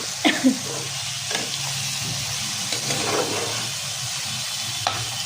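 Bottle gourd pieces drop into ground ginger, garlic, cumin and green chilli frying in a pan, giving a soft sizzle with a few clattering thumps as they go in, then quiet stirring.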